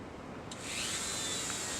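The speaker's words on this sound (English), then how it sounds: "Now this is a variable speed Dremel, which is really nice to have." A variable-speed Dremel rotary tool spins up and holds a steady high whine after a brief start click, close and fairly loud, used on deadwood of a bonsai tree.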